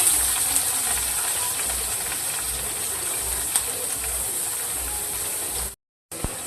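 Curry leaves and plenty of onion fry in hot oil with a steady, loud hiss and sizzle, continuous and alone, cutting out briefly near the end.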